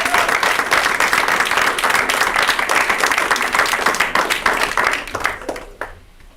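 An audience breaks into sustained applause at a film festival happy hour, many hands clapping densely and evenly before the clapping thins out and fades near the end.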